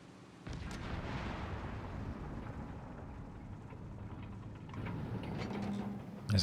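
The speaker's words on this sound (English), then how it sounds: "It's a stalemate. Too much artillery in the middle." Artillery barrages in a Company of Heroes 3 four-versus-four match, rumbling booms and rolling blasts layered into a continuous low roar, fairly quiet overall with a heavier surge near the end.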